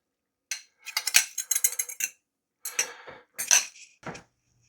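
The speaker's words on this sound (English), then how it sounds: "Stir these with a spatula until they're complete." Eggs in a frying pan are stirred with a spatula, giving a close series of sharp metallic scrapes and clinks in irregular bursts separated by short pauses, with no talking.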